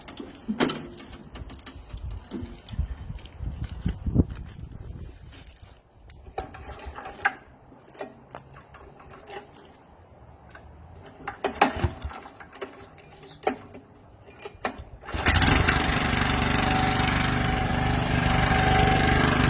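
A Red Roo rotary hoe tiller gives scattered mechanical clicks and clunks as it is set to engage, then breaks into a loud, steady engine drone with churning that holds for the last few seconds.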